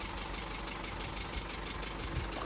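A Vauxhall Corsa engine idling close by with a steady even drone and a fine ticking rattle running through it, with no talk.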